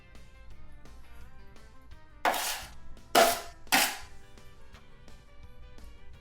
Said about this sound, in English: I usually use this 4-inch knife to just keep putting the mud